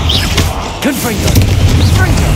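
A Confringo blasting spell goes off in Hogwarts Legacy, a booming burst of in-game magic with rumbling low end and whooshing sweeps, repeated through the moment while a player's voice is heard over it.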